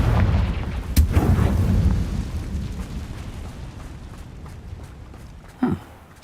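Bombarda and Confringo spells explode in Hogwarts Legacy: a loud booming blast near the start, rumbling and decaying, then a second sharp burst near the end.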